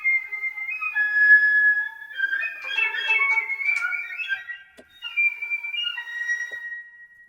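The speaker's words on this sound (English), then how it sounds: "And our whistle tones." Whistle tones from the Neo Trio sample library by Insanity Samples: clear, pure sustained pitches sliding and stepping across several phrases, fairly close and alone with no talk.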